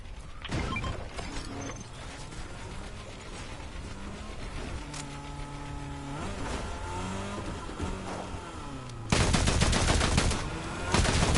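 Rapid automatic gunfire in a Fortnite match, dense bursts of loud shots mixed with game effects and rising tones, ending in a heavy burst near the end.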